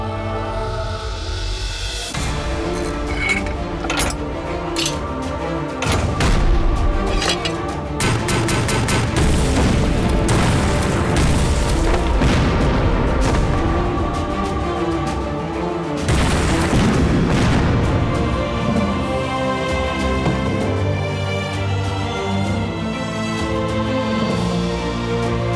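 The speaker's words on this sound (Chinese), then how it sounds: "照着一连阵地给我狠狠的轰" Artillery and mortar fire pounds a position in a war action film, with continuous heavy booms, blasts and rolling gunfire layered over a dramatic music score, loud and dense throughout with no pauses.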